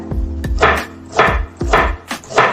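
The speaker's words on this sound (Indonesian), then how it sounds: "Bawang merah hanya sebagian yang saya potong, sebagiannya lagi nanti akan saya utuhkan." A knife chops shallots on a board: four crisp, evenly spaced cuts over a couple of seconds, close and clear, with no voices.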